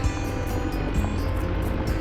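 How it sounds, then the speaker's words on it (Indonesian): Steady vehicle engine roar blended with gusting wind on a mountain road through misty Tana Toraja highlands, loud and continuous throughout. "suara mesin bercampur angin"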